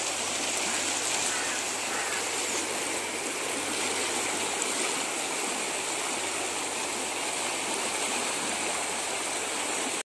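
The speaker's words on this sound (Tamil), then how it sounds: "இது பார்க்குற தண்ணி வந்து வேகமாக போகுது" Fast-flowing water rushing through a village drainage channel, a loud, continuous broadband roar that stays steady throughout.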